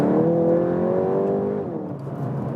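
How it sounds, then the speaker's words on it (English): A 300 hp 2021 VW Golf GTI Clubsport in Nürburgring mode downshifts, its engine note droning steadily then dropping in pitch, with faint exhaust burbles from the rear as revs fall, loud and close without talk. "we can hear even the GSC plops from that exhaust in the rear"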